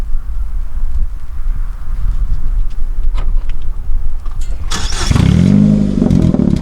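A stick shift car engine starting after a steady idle-like rumble, the starter catching near the end and the engine firing up loud and close.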